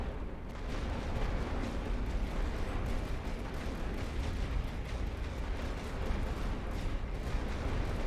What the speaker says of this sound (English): I'm going to pause for a second so I can call in a precision barrage